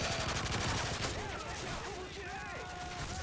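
Rapid gunfire rattles through a Modern Warfare 3 Survival mode match on the Terminal map, dense bursts loud and continuous throughout, with some voices underneath.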